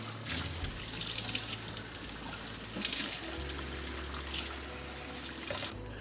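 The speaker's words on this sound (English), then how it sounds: "you would need to wash it under running water to get rid of the salt" Steady running tap water pours continuously, with splashing and soft handling sounds as vegetables are rinsed beneath the stream to remove salt, fairly close.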